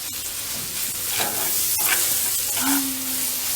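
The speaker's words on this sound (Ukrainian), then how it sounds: "Ось уже і закипіла і квасолька кипить, нехай вариться." A pot of beans bubbles and hisses steadily at a low simmer, with faint clinks and a brief tonal whine partway through.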